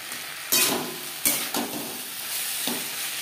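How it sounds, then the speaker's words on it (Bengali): Vegetables and spices fry in a pan for a katla fish curry, giving a steady close sizzle with a few louder stirring scrapes and bursts, and no talking. "মশলার সাথে সবজি কষানো বেশ ভালোভাবে হয়ে গেছে।"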